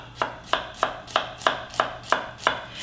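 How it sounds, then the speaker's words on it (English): A knife thinly slicing shallots on a cutting board, with about nine crisp, evenly spaced chops in a steady rhythm, close and clear with no talking. "What we wanna do is just very thinly slice them."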